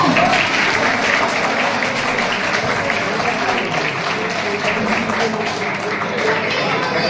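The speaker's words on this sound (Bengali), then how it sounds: "হাততালি বন্ধ হচ্ছে কেন?" A convocation audience in a hall claps steadily and continuously, a broad wash of many hands at moderate loudness, with faint voices mixed beneath the clapping.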